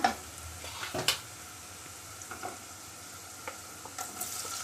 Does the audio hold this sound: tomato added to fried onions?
yes